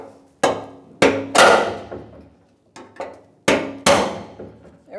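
A hammer taps the lock tab on the rear fuel pump module of a 1992-1996 Ford F-150, giving about six sharp metallic knocks at irregular intervals, each with a brief ringing decay, close and clear with no talk.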